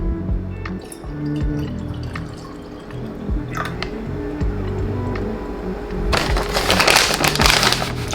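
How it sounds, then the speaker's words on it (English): Water pours into a glass with a rising, splashing rush near the end, preceded by small clinks and drips against a steady background hum. "So I'm gonna fill my glass up again."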